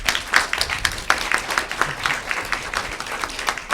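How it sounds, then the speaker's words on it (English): Audience at a youth summit panel in Philadelphia applauds the panelists, a continuous rapid patter of many hands clapping fairly close, steady throughout with no speech. "Just give them another round of applause, please."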